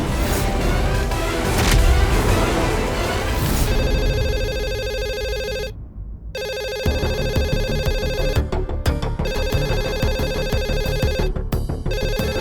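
A telephone rings steadily with a repeating electronic tone, loud and close, broken by a brief silence partway through before the ringing resumes.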